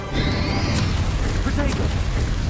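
Booming blast of a Confringo fire spell exploding in Hogwarts Legacy, a loud crash under a shouting voice, with crackling debris and magical whooshes trailing after.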